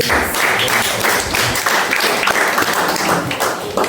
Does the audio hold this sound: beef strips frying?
no